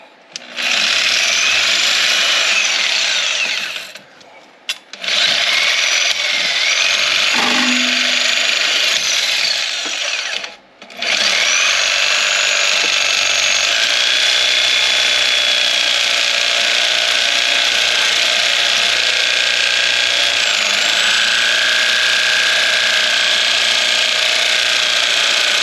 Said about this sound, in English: I'm cutting it. Watch the Sawzall blade.